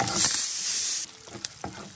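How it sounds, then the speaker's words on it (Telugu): Sun-dried urad dal dumplings (minapa vadiyalu) sizzle in hot oil in a pan with a loud, steady hiss for about a second. A few scrapes and taps of stirring follow over a quieter fry. "చక్కగా ఇలాగా వేయించుకుంటే కొంచెం కలర్ మారితే చూడండి, మారినప్పుడు తీసుకోవాలన్నమాట"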